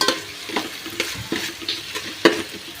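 Tomatoes going into onions frying in a pan: a close, steady sizzle with a few quick scraping stirs and soft knocks of a spoon, no speech.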